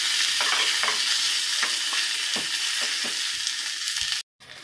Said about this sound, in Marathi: आपली फोडणी छान तळल्या गेली,